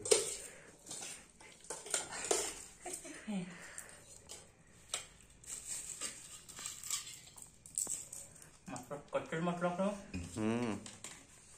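Poha stirred in a pan in a home kitchen, with light clinks and scrapes of a utensil against the pan, intermittent and close, partly under a person's talking.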